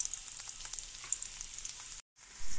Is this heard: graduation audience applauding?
no